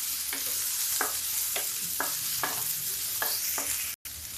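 Onions sizzle in a pan over low gas, a continuous hiss broken by about eight regular scraping strokes of a spatula, close and clear, with a brief dropout near the end and no talking.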